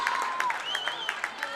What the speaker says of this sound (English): As the Edgar fans clap for Kendall there